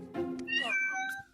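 A house cat greets a parcel courier with a single drawn-out meow that rises then falls, close and clear with no other sounds around it.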